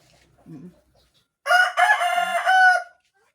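A black Australorp rooster crows once, a loud, full cock-a-doodle-doo lasting about a second and a half, preceded by a faint short cluck.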